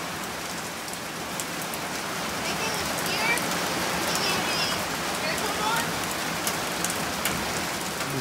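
Steady rain falls outdoors on a hunting trip, a continuous even hiss of drops on surfaces that holds at the same moderate level throughout with no pauses.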